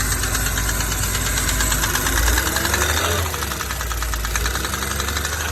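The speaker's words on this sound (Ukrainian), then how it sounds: "Та ні, це цепок, це поршень стучить." A Porsche Panamera 3.0 turbo idles with a steady, rapid piston-slap knock ticking through its engine note, continuous and close throughout, with a brief dip in loudness partway.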